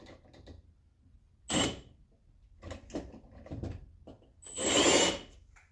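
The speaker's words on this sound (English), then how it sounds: "Drill our other one." A drill bores a mounting hole for a brake master cylinder reservoir, giving two short whirring bursts among quieter scraping and handling noises, close by.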